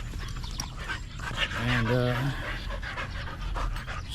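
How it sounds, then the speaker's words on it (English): Dogs pant rapidly and play together, giving a short whimpering yip at close range, while a person talks over them. "They're doing some dog play, guys."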